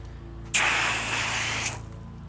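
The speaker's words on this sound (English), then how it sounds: "So when I spray it, the water drips right down off, and it beads very nicely actually." A single steady hiss of water spraying from a nozzle onto ceramic-coated car paint, lasting about a second, close and fairly loud against a quiet background.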